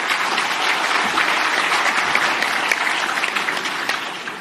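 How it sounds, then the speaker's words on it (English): Audience applause at the Agri SA Congress 2019 welcoming Minister Thoko Didiza, a steady, dense round of clapping from a large crowd that holds evenly for several seconds without talk. "Let's give her a great round of applause."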